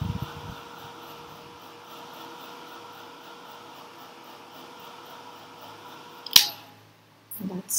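A heat tool dries watercolor paint on a stamping project, giving a steady close whirring blow for about six seconds before a sharp click cuts it off, followed by quiet handling.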